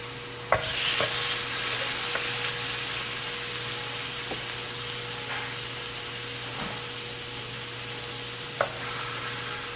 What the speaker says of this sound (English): let's get to grilling